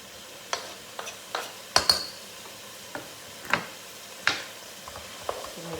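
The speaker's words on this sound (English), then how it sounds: "I'm going to put my peppers in." Peppers frying in a pan for chilli con carne, with a spoon scraping and clinking against the metal in several sharp knocks over a low sizzle, close and without talk.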